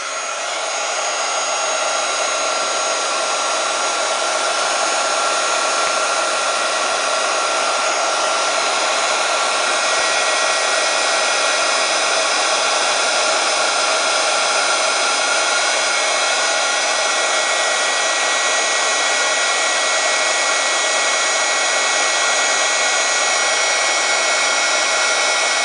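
A handheld heat tool blows steadily and loudly for a long stretch with no pause as it warms a craft surface for a rusty-effect technique.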